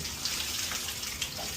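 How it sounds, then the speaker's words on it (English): Water runs steadily from a newly installed shower head, a continuous close hiss with no break and no talk. "You just turn this little handle and it changes the flow of the water."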